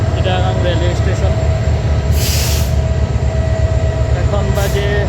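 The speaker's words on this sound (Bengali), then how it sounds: "এই যে চিটাগাং রেলওয়ে স্টেশন।" Trains at Chittagong railway station with a 3000 series locomotive nearby, a steady loud rumble of rolling stock and engine hum throughout, brief bright hissing or squeal bursts, and a voice speaking faintly under the noise.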